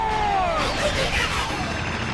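A building crashing down in a Transformers cartoon battle: a loud sustained rumble of collapsing debris with falling whistling tones and scattered impacts, steady throughout.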